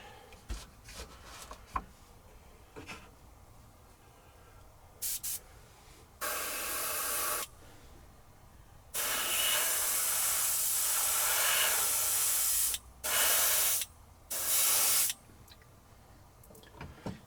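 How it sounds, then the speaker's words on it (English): Several bursts of aerosol spray hiss as a coating is sprayed: two short ones, then a long steady spray, followed by two more short bursts, with quiet handling noises between. "And we're going to spray"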